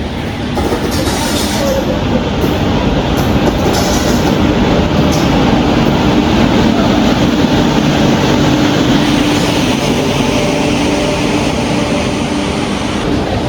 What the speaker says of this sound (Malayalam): ചെന്നൈ എഗ്മോർ മംഗലാപുരം സെൻട്രൽ എക്സ്പ്രസ് വരുന്നുണ്ട് ഈ റോഡിൻ്റെ ഒരു P7 ആയിട്ട്.